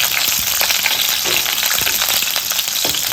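Garlic, curry leaves and slit green chillies sizzle hard in hot oil for a pomfret fish curry, with occasional stirring scrapes. The frying is loud, close and continuous, and no one talks.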